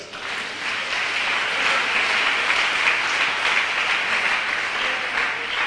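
A church congregation applauding the Lord during a French-language service, steady sustained clapping from many people that swells slightly and holds at an even, fairly loud level throughout.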